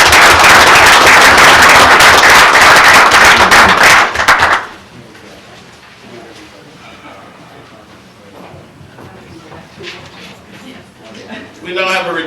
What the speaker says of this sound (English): another round of applause for DTI